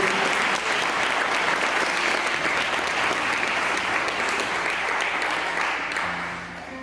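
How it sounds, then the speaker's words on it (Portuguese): Church congregation applauding in a sustained, dense wash of clapping that holds loud for several seconds before tapering off, with no speech over it. "Pode aplaudir o Senhor."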